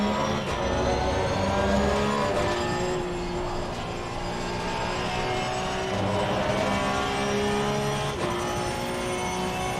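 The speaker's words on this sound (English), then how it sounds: "Sound is typical that of a Porsche." A Porsche race car engine in the video game Assetto Corsa Competizione screams continuously at high revs around Spa, with gear shifts and revving rising and falling over several seconds.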